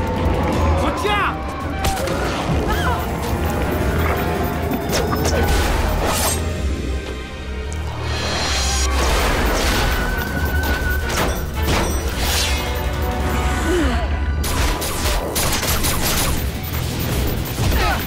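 Animated cartoon battle with continuous gunfire, crashes and booming impacts layered under shouting voices and a dense action soundtrack throughout.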